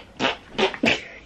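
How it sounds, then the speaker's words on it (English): An armpit fart made by a child pressing a hand into the armpit: three short, wet, squelchy bursts in quick succession, close and moderately loud with no talking. "He just had to do the arm fart, babe."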